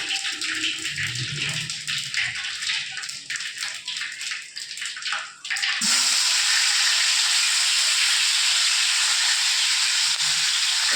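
Mustard seeds, cumin and fennel sizzling in hot oil, a dense, loud, spattering crackle at first that gives way to a steady bright hiss.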